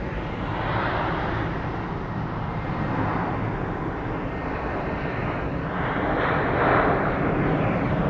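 A Southwest airliner departing Phoenix Sky Harbor airport for Long Beach gives a steady, loud jet roar heard from a distance, swelling slightly toward the end, with no voices.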